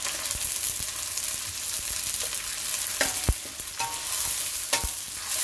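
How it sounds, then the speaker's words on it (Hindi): Tomato puree frying and being stirred in a pan for chicken lababdar: a steady sizzle runs throughout, broken by sharp scraping clicks of a spoon against the pan, close and moderately loud, with no talking. "इसमें हम डालेंगे ये 2 टमाटर की प्यूरी"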